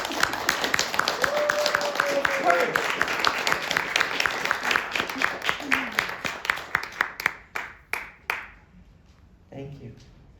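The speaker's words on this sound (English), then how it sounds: "Can I just clap first?" Audience applause at a poetry reading, dense clapping that thins into a few separate claps before fading, with a voice or two heard briefly near the end.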